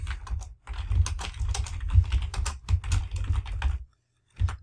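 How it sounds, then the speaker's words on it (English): Fingers type a description on a computer keyboard, a close run of quick uneven clicks with brief pauses and a short burst at the end. "We're going to type in our description."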